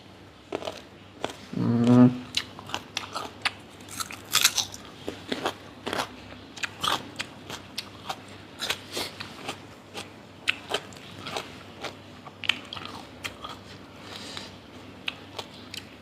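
Sour green mango dipped in spicy fermented fish sauce, bitten with a loud crunch near the start, then many sharp, close crunching chews spaced irregularly, with little talk.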